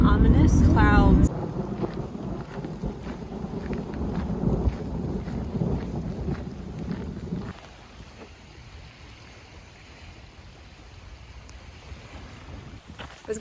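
A thunderstorm rolling in near Pictured Rocks in Michigan's Upper Peninsula, heard as a loud, steady wash of rumbling, rain-like noise that softens partway through, with a brief voice at the start.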